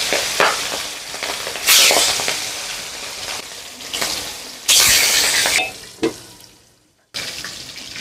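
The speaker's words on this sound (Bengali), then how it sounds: "দিয়া মাছটা ভাজি করবো।" Boal fish frying in hot oil on a wood-fired stove, a steady sizzle broken by several loud bursts of spattering and a brief near-silent pause before the frying resumes.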